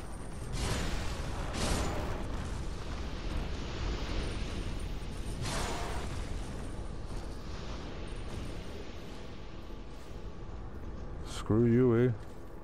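Muffled booms from bomb-throwing enemies in Dark Souls II, a few deep blasts rumbling over a steady game-noise bed, with a voice speaking near the end.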